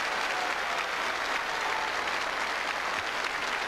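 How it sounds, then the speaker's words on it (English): Crowd at a bowls match bursting into sustained, even applause, a dense wash of clapping that holds steady for several seconds without any speech over it. "a thoroughly deserved roar of approval from the crowd"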